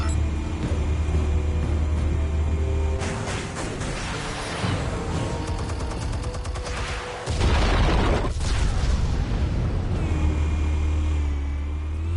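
Explosives detonating in the video game Batman: The Telltale Series, a heavy booming burst rising out of a droning, rumbling background, with crackling debris and a second deep thud following.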